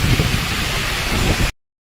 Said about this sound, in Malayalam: നല്ല മഴ, നല്ല കിടുക്കാച്ചി മഴ പെയ്യും.